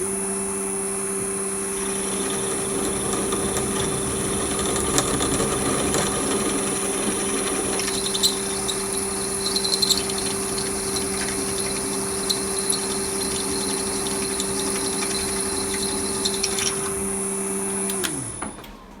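A steady motorized whine of a drill press running continuously, drilling 4.2 mm and tapping an M5 thread in metal, with faint scraping and tapping, ending as the motor spins down.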